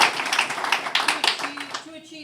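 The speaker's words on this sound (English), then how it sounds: "We'll stop for the applause." Applause breaks out at a Board of Aldermen meeting, a brief burst of many hands clapping that thins out toward the end, with a voice beginning to speak over the fading claps.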